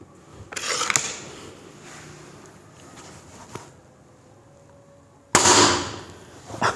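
A Kral N11 spring-powered airgun fires pellets in two sharp, loud reports, one near the start and a louder one toward the end, with quiet room noise between them and no speech.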